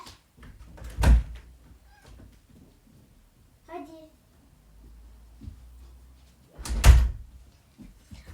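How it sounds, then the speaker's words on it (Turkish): A door in a home is opened, giving two heavy thuds about six seconds apart, with someone speaking softly between them. "Kapıyı açmam lazım arkadaşlar."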